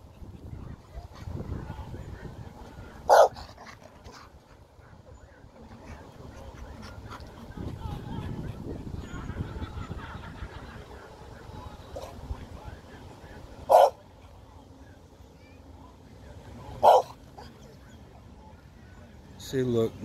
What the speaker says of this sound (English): her dog making my dog bark